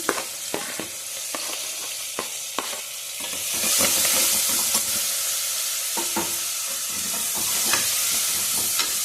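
Onions and curry leaves fry in a pan for a pigeon pea sagu, starting with sharp stirring clicks and scrapes, then swelling into a loud, continuous sizzle with occasional spatula knocks; no talking.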